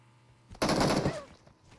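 Burst of rifle fire from an MK14 in the battle-royale game PUBG, a sudden loud volley starting about halfway through and lasting under a second before trailing off, with no talk.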